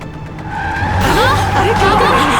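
A car brakes hard and its tyres skid and squeal loudly, the screech rising partway through and holding to the end, with a voice heard underneath the noise.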